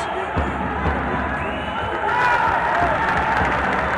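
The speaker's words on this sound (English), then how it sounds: "Applause from the crowd, they can clearly see that the jab is working" Crowd at a boxing semi-final bout of the 2012 African Olympic qualifying event breaks into steady applause and cheering, a broad roar rising slightly midway, with an arena commentator talking over it.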